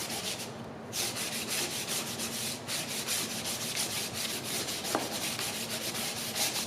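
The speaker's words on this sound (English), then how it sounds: "I'm sure you're excited watching all of this sanding" Someone rubs sandpaper steadily against the sharp corners of wooden spindle inserts for a Mission table, making close, scratchy back-and-forth strokes in a continuous rhythm with a few brief pauses.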